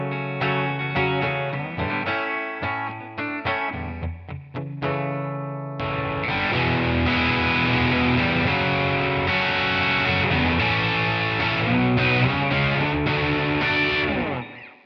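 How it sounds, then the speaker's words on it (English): Electric guitar played through a Joyo American Sound preamp with a distortion pedal in front, starting with a few picked notes and chords, then a thick, saturated distorted riff ringing out loudly. "using a pedal in front of it for a distortion sound"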